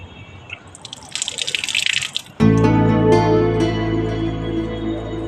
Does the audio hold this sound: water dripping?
yes